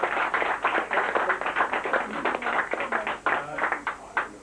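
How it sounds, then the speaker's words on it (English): Audience applause at an evening tribute event, a lively round of clapping with uneven bursts and swells lasting several seconds, fairly close and loud. "Let's give a nice round of applause."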